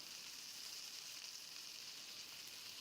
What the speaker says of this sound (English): Just frying a whole chicken leg.